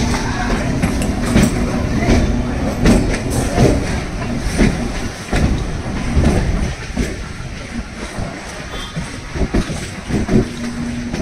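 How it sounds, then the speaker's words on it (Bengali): A Goghat local train runs from Howrah toward Kamarpukur with a loud, continuous rumble from inside the carriage. Rhythmic clickety-clack wheel beats sound over the rails, along with rattling. "আমরা 4:22-এর ট্রেন যাচ্ছি বটে"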